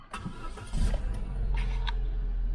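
A car's engine cranks and catches, then settles into a steady, close idle; the car is in park and has its engine management light on.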